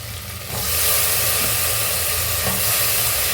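Peeled potato pieces sauté in a hot pan for potato biryani, a loud, steady hissing sizzle that swells as they go in and keeps crackling without pause.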